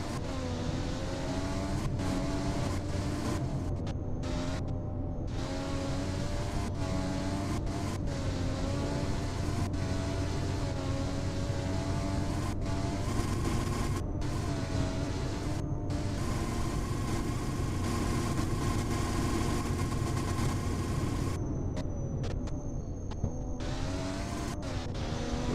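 Ferrari race car engine in a racing sim, a steady high-pitched whine held near-constant for the whole stretch, with brief dips and lifts as the car works through gear changes and corners.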